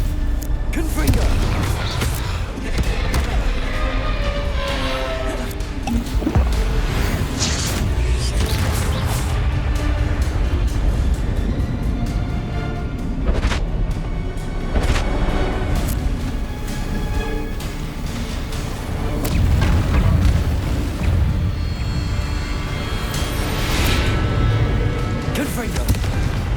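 Bombarda and Confringo spell explosions in Hogwarts Legacy combat, a steady stream of booming blasts and crashes layered over continuous battle noise for nearly half a minute, with a voice talking throughout.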